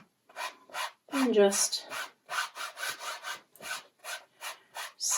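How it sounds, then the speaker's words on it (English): A wet sponge spreads acrylic paint across a canvas in a series of short, rhythmic rubbing strokes, close and fairly quiet, with a few spoken words near the start. "Now, it's a little bit dry, so I'm just going to take a sponge, which is wet,"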